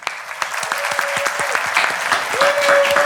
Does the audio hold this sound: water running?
no